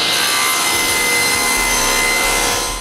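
Plywood is cut to size with a power saw, a loud, close, continuous rasping whine that holds steady throughout and dips slightly at the end, with no voices.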